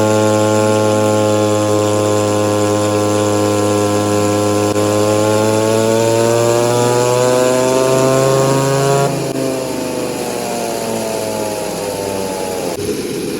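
A V-Modest 2511 chainsaw engine, a clone of the Echo 2511, with a muffler mod revving on a dyno: a loud, close two-stroke whine climbing steadily in pitch, then dropping and holding at a lower pitch.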